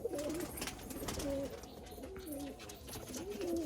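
Punjabi Malwai pigeons coo in repeated soft, rolling calls, several phrases close by over a low background hum.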